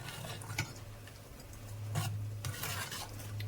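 A spoon stirs avarekalu sambar in a pot, making soft scraping and clinking contacts at an uneven pace over a low, steady hum, with no voices.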